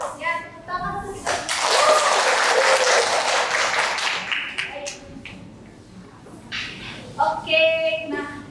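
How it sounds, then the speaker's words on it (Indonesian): A classroom audience claps together in a sustained burst of applause lasting several seconds, loud and dense, with a teacher's voice heard before and after it. "Tepuk tangan dulu kita."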